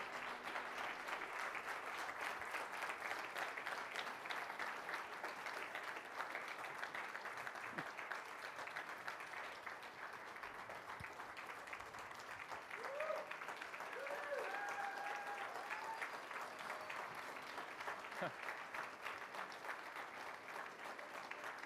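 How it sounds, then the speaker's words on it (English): A crowd at a public event applauds the organizers in a steady, dense wash of clapping that lasts the whole stretch, with a few brief cheers and whoops rising above it. "I want you all to give a round of applause to these people"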